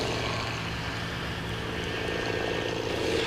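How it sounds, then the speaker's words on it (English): A propeller airplane drones steadily overhead, a constant, fairly loud engine roar that holds throughout with no speech. "There's another aeroplane."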